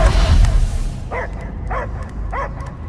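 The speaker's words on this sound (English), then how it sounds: "I hear only barking." A dog in the Guardians of the Galaxy video game gives four evenly spaced yipping barks, close and clear, following a brief burst of a game character's voice and noise at the start.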